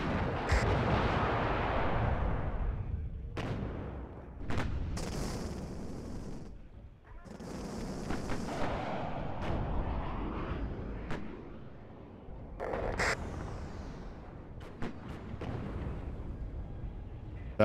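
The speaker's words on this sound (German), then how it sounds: "Da versucht er mit seiner Artillerie wieder unsere Flugabwehr anzugreifen." Artillery in the Cold War strategy game WARNO booms in scattered blasts, some sharp and close, others dull and distant, with rumbling tails and quieter gaps between the salvos.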